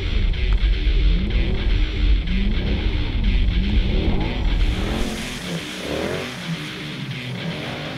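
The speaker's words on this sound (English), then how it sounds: "Nice to get some drifting done." A Mercedes C63 AMG or Audi R8 engine revs hard with tires scrubbing while drifting, then drops to a lower rumble as the car slides away.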